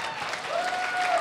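Audience applause at a comedy show, a steady wash of clapping from a crowd that holds level and swells slightly toward the end of the short burst.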